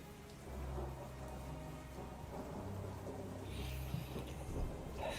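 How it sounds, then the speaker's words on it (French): Steady heavy rain pours with a low, rumbling storm roar, like a violent tempest lashing the windows and doors of a manor, set as ambience for a Call of Cthulhu tabletop role-playing session. "Vous entendez la pluie battre, ainsi que le vent qui puissant qui siffle au travers des fenêtres et des portes du manoir"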